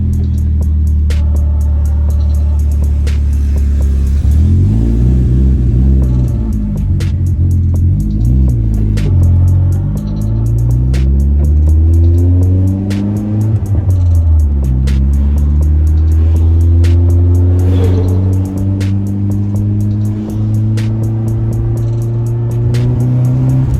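A Nissan S13 car with a fuel upgrade, accelerating hard on a test drive: a loud engine repeatedly revs up through rising pitch sweeps, drops between gear changes, then climbs again, with a rapid ticking rattle running throughout.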